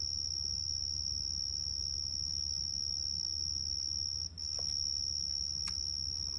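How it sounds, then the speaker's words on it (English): A cricket lodged inside an air conditioning unit sings a continuous, shrill, steady trill over the unit's low hum, with one brief dropout near the end. "Three nights this cricket has lodged itself in our air unit singing its love song."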